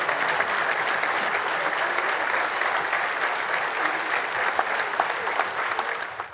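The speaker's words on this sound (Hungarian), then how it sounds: "Helyette tiszteletbeli elnökünket köszöntse most illő taps" A crowd at a 1956 revolution commemoration in Budapest's Corvin köz claps steadily for a speaker, a dense, sustained round of applause with no break.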